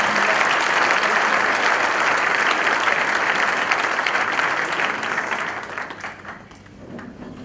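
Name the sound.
loud applause from church congregation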